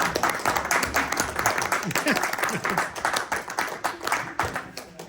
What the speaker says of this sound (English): can we just give Joanne a round of applause for all of her work?